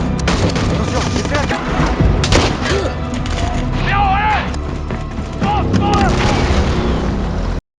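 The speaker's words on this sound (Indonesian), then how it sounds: "Sebuah bom meledak di dalam terowongan" Deep booming blasts and rumbling thuds of a bomb exploding inside a tunnel echo through the enclosed space, with voices and scattered shouts mixed in.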